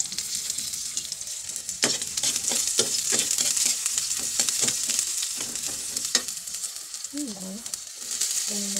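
Eggplant with hotdog and corned beef sautéing in oil in a pan, with a continuous bright sizzle and repeated scraping stirs. A brief voice or wavering tone comes near the end.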